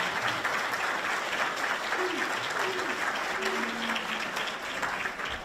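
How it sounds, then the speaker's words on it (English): Banquet guests at an induction dinner give a steady round of applause, dense clapping at a fairly even, moderate level, with a few faint voices underneath. "show them a little round of applause for the job tonight"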